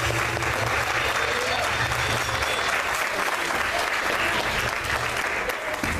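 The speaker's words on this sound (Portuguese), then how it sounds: "Só quem crê aí, aplauda o Senhor." A church congregation applauding, a loud, dense and continuous wash of clapping that fills the room from start to finish with no pause.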